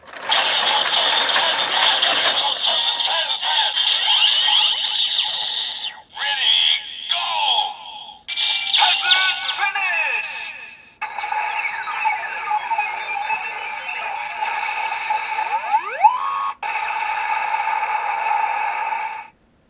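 A DX Hazard Trigger toy transformation belt blares loud electronic final-attack effects: whirring, ratcheting mechanical tones and bright synthetic chimes in bursts separated by brief pauses, with no talking.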